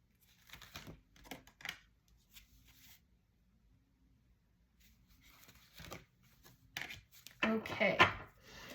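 An oracle or tarot card deck is shuffled by hand in several short riffling bursts separated by quiet pauses, close and soft, with a final louder flurry.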